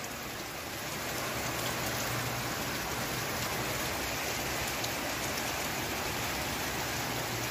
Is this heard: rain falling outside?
yes